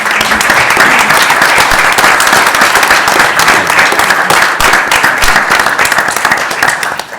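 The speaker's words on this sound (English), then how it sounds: "another round of applause for our speakers" Sustained audience applause for the speakers at a public briefing on educational technology, dense steady clapping throughout that tapers off at the very end.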